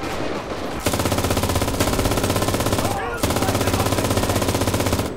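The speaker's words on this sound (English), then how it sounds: "Oh, quickly get to this MG!" A mounted MG fires long rapid bursts in Enlisted during a German-side D-Day beach defence, loud and close with a brief pause between two sustained streams of shots.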